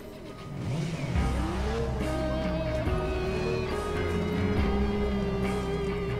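Motorcycle engine in the Watch Dogs video game revving steadily and loudly, pitch rising and falling continuously under a thick layer of other game sound, with no talk.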